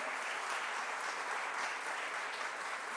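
Audience applause at an Afro-descendant commemoration event in Costa Rica, a dense, steady wash of clapping filling the whole stretch at an even level with no voices over it.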